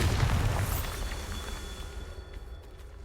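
A Bombarda blasting spell detonates in the Hogwarts Legacy video game, a heavy booming explosion that hits at once and then rumbles and fades over a few seconds.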